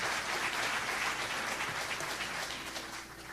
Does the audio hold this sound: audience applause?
yes